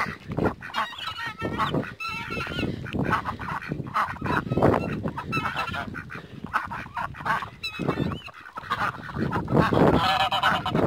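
A dense flock of geese honking continuously and loudly, overlapping calls from many birds close by, with a few brief dips in the din.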